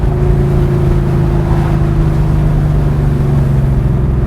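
A Porsche 911 Carrera 2 (964) engine runs loud and close with a steady, unbroken drone and strong low harmonics throughout, holding a sustained high-rev tone rather than rising and falling.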